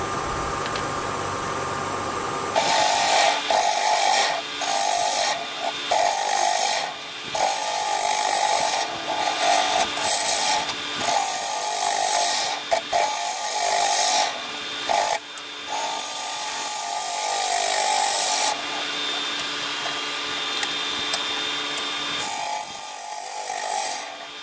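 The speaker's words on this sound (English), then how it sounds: "I'm ready to start hollowing my bowl, and so it's turning 1000 RPMs, and I'm going to start with a 3/8 bowl gouge" A 3/8 bowl gouge hollows a maple bowl spinning at 1000 RPM on a wood lathe, giving a loud, close scraping hiss in repeated cuts broken by brief pauses, over the steady whine of the lathe.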